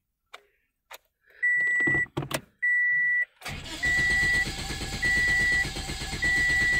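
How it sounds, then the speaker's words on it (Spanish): A car with a no-acceleration fault and a lit check-engine light cranks without starting. A few clicks and chimes come first, then a loud sustained cranking churn with repeated electronic warning beeps over it. "Ahí ya no quiere prender."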